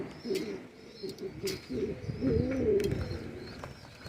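Pigeons coo at an outdoor pigeon show, with several birds giving low, rolling coos in overlapping bursts nearby, alongside faint higher chirps and occasional sharp clicks.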